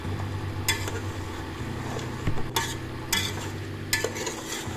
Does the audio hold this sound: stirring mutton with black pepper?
yes